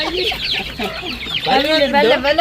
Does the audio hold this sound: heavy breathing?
no